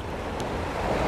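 Surf washing onto a beach, steady broadband rush with a soft swell building toward the end, wind noise over the mic, no voices.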